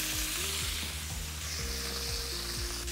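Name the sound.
shallots and artichoke hearts sautéing in a pan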